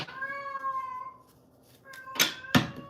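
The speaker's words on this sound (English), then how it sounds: "There's my kitty." A very old cat meows in a long, drawn-out call, then lets out two sharper, louder meows close by, with no talking over it.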